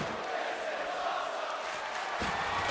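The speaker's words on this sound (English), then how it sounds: "the crowd's huge fans of table matches, so they are loving this" Crowd noise from a WWE 2K24 video game table match, a steady, fairly loud broadband roar of cheering fans that lifts slightly near the end, with no talk over it.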